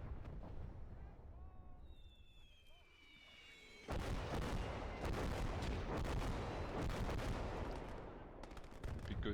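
An artillery barrage in the World War II strategy game Gates of Hell: after a quieter stretch with whistling shells, heavy booms and rattling gunfire erupt and keep pounding loudly in dense, overlapping blasts.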